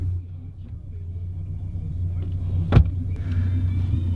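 A 1998 Ford Ranger XLT pickup idles with a steady low rumble, interrupted by a single sharp click or thump midway, then settles back into the even engine drone.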